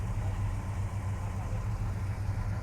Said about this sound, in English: So Frank, there we have a cold start of a Challenger.